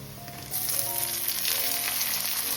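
Tomatoes dropped into a pan of browned onion, green chilli and garlic, the frying jumping to a louder, steady close sizzle that holds without pause and with no voices.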